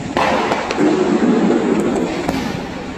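Firecrackers burst during festive celebrations, a string of sharp cracks and pops scattered irregularly over a crackling, rumbling background, fairly loud and close.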